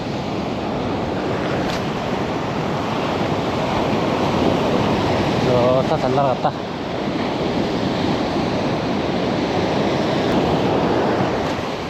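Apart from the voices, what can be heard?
ocean waves at the shore in Sokcho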